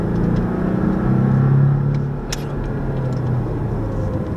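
Porsche 718 Cayman on a racetrack accelerating after braking, a steady engine drone with a rising pitch, heard from inside the car with no talking.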